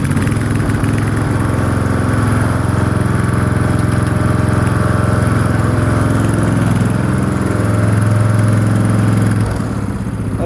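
A Lawnflite 604 tractor mower engine runs steadily and loudly in snow, its low engine drone holding constant with a slight throttle rise toward the end and no talking.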